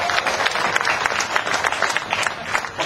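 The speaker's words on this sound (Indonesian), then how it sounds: "tepuk tangan buat Ustadz Wijayanto." Loud, dense applause from an audience at a Kenduri Cinta gathering as a guest preacher is welcomed to the stage, steady clapping throughout with crowd murmur underneath.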